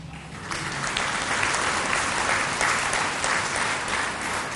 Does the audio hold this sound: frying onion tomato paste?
no